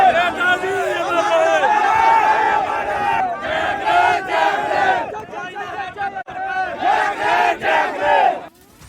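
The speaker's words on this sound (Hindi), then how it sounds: "जमकर हंगामा और नारेबाजी सुनाई देगी।" A large protest crowd in Etawah, Uttar Pradesh, shouts slogans in rhythmic unison, loud and close, with surging waves of many voices and brief dips between chants.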